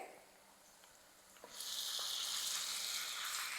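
Chicken drops into a spiced tempering in a hot pan and bursts into loud, steady sizzling and frying after a quiet start with a few light clicks.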